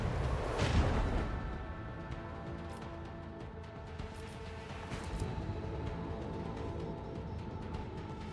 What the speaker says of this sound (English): Starboard cannons.